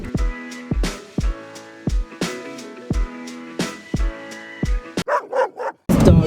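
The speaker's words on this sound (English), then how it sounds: "This dog is on the loose." A loose dog in regional Australia barks repeatedly and fairly close, about a dozen sharp barks in a steady rhythm, ending in a few softer yips and a brief burst of noise.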